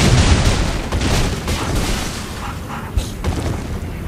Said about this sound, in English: Use Matilda and drop her bomb over there.